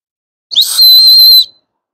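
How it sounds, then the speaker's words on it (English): Whistle that comes with a Gerber Ultimate fixed blade knife, blown once up close: one loud, shrill, steady tone lasting about a second, with silence before and after. "Another thing that it comes with is this handy dandy whistle. So let's just try it out and see how loud it goes."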